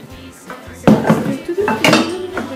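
Ingredients being stirred in a bowl while cooking, with utensils clinking and scraping against the dish in a steady run of close, fairly loud knocks.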